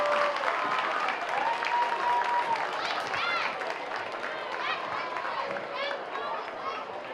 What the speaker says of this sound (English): let's give these girls a great round of applause